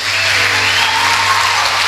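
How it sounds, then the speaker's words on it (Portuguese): A church congregation applauds during a worship service, a dense, loud, steady wash of clapping that continues evenly throughout with no break. "Você pode aplaudir o Senhor por isso?"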